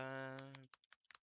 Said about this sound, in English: I don't know where I'm typing on the thing.